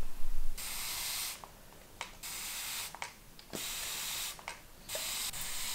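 Hand pump spray bottle misting water over the soil of small indoor seed pots, in several close hissing bursts separated by brief pauses and faint trigger clicks.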